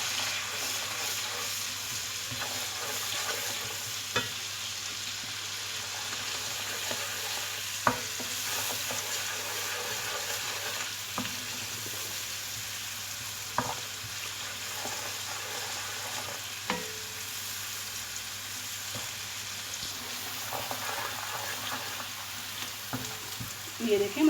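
Spices for mash ki dal sizzle and fry in a pan, a steady hiss with occasional soft stirring scrapes and clicks of a spoon, close and continuous.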